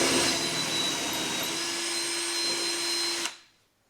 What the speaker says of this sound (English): I'm using a hand drill for this.